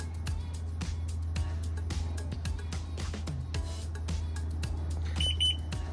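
Short electronic beeps from a Kspeed tune box on a Kawasaki Ultra 310 jet ski after the key is switched off, a quick high cluster near the end over a steady low hum.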